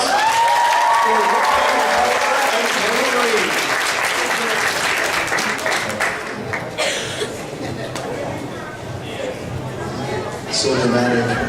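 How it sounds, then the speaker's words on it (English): An anime convention costume contest audience gives a big round of applause, loud dense clapping with chatter and chuckles, tapering slightly before swelling again near the end, with voices talking over it. "A big round of applause"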